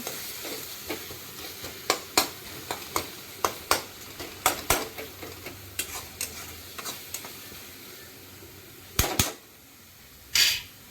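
Tomato and turmeric frying in a pan while being stirred, a soft background sizzle punctuated by sharp, irregular spoon scrapes and clinks against the pan, with two louder scraping bursts near the end.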